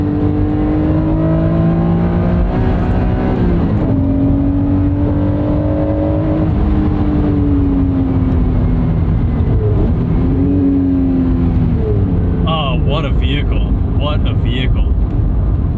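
A car engine climbs through high revs in long rising pulls, loud and close, with a voice talking over it.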